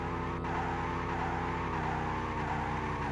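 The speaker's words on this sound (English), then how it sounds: "So skidding is pretty universal" Car tyres skidding in the Amiga racing game Super Monaco Grand Prix, driving a McLaren: a steady synthesized engine drone with a continuous squealing skid tone wavering over it, close and unbroken.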